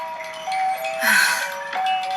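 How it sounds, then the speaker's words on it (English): A tinny electronic jingle plays steady beeping tones in a looping, toy-like melody, fairly loud and close, with no one talking. "Oh, what a nice toy. Oh, what an annoying sound."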